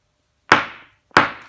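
A Milton Smash hammer head struck twice on the ground, two sharp, loud thuds about two-thirds of a second apart, each with a short fading ring, close by with silence around them.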